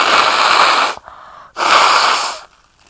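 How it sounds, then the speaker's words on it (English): A person blows their runny nose in two loud, breathy bursts close to the microphone, separated by a short pause, with quiet afterward. "Let me blow my nose real quick"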